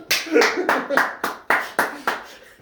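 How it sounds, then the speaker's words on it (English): One person claps hands indoors at a Polish Christmas gathering, about eight sharp claps in a loose steady rhythm, close and distinct, with voices murmuring between them. "So instead of saying that's good, you're gonna clap now"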